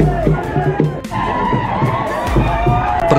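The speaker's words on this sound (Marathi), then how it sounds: "मुलांचा जो जोश जल्लोष आहे तो असाच चालू आहे." Children shout and cheer at a late-night Mahalakshmi village festival in Bhadgaon, their excited voices rising in bursts over a lively crowd, close and loud.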